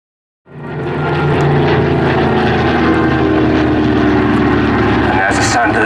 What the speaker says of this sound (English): there's the sound of the beautiful engines. Today we have a Hurricane with a Merlin.